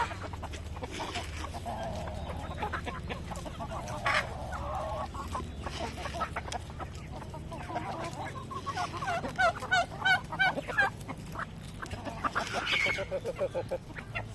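Native chickens, including a brooding hen with young chicks: steady clucking and honk-like hen calls, with rapid bursts of high chick peeping rising in the second half, close by over a low background hum.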